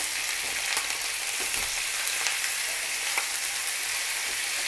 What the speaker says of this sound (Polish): Jeszcze chwileczkę podsmażamy.